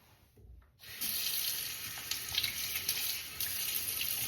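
A bathroom tap turns on and water runs steadily into a sink to rinse a face sponge, a soft constant hiss after a brief quiet start.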